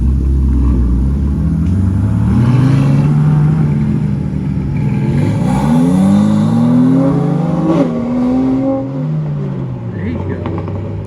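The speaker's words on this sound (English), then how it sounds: "Oh, this is a DB11." An Aston Martin DB11 revs and drives past at a supercar rally in Monterey, its engine loud and close, rising and falling in pitch through several throttle blips as it passes, with voices faintly underneath.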